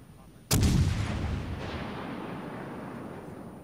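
A single loud gunshot or artillery-style blast in a multiplayer shooter video game, cracking suddenly and leaving a long rumbling decay that fades slowly beneath faint background noise.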